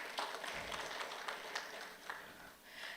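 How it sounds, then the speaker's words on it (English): Audience applause at a parent orientation gathering, a dense steady patter of many hands clapping at moderate distance that stays even for a few seconds. "Give yourself a round of applause for that."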